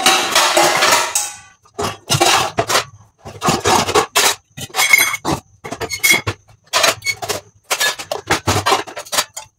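Metal pots and dishes clatter and scrape as they are set out in a home kitchen while oil heats, in a series of loud, close bursts separated by short pauses.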